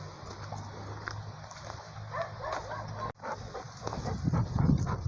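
A small female dog barks and whimpers in a guarding, defensive state during handling, with irregular yelps and whines over steady background noise and some voices.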